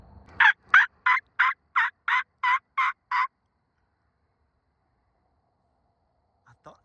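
A rapid series of about nine loud wild turkey gobbles from the woods, evenly spaced, followed by silence and a faint distant call near the end.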